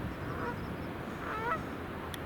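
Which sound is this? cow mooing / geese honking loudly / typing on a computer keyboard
geese honking loudly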